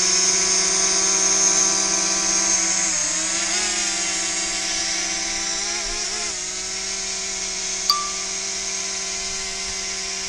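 A drone's rotors produce a steady, high-pitched buzzing whine as it takes off and flies through a wood, the pitch wavering as it manoeuvres, with a brief click near the end.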